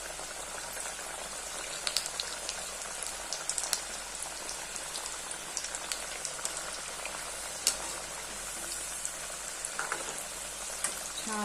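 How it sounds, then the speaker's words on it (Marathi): Vadi fry in hot oil over a low gas flame, giving a steady, dense sizzle and bubbling crackle that carries on without a break and without any voices. "छान असं तळून घ्यायचं. मंद गॅसवरच तळून घ्यायचं."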